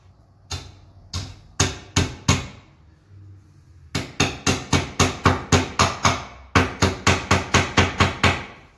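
Nails are driven with a hammer while a window is installed, a close, loud run of sharp rhythmic strikes in quick bursts, about twenty blows with short pauses between.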